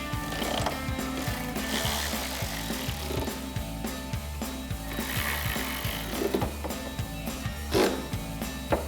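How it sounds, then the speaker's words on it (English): Hand ratchet with a T47 socket tightening tailgate hinge bolts on a 2021-2024 Ford Bronco, giving repeated close clicking strokes in an even rhythm with a few metallic knocks. "So grab our ratchet, T47 socket, and tighten those 2 down."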